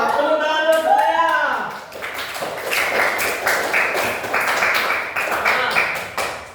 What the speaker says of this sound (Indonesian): Mantap, tepuk tangan dulu semuanya.